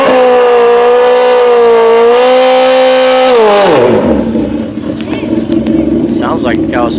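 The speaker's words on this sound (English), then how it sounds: "Sounds like Kawasaki." A Kawasaki drag-race motorcycle engine revs hard at a drag strip, holding a loud, high, steady whine before the pitch drops sharply into a rougher roar, close and very loud.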